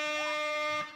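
A blaring air horn rings out as a sustained, steady buzzing tone for about a second, then cuts off abruptly.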